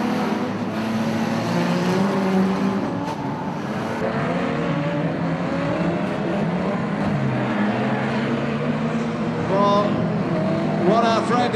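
Banger racing cars at an unlimited meeting on a dirt track at Coventry, engines roaring and droning continuously with shifting revs, several cars audible at once, with a commentator talking over the noise throughout.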